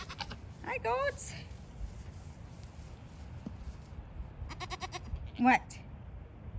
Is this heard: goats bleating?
yes